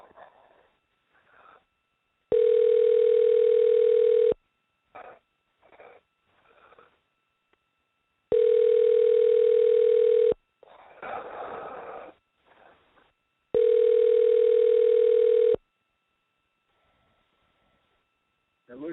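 A telephone line plays three long, steady electronic ringback tones about two seconds each, evenly spaced, while people talk quietly in the gaps between them.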